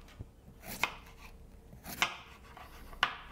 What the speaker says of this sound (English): All you have to do is shred the cabbage.